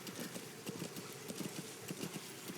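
Horse hooves clip-clop at a steady trotting rhythm in Metal Gear Solid V, quiet and continuous over a soft outdoor ambience, with no talking.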